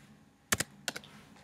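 A computer keyboard clicks as Enter is pressed, two quick pairs of crisp taps close together against a quiet room.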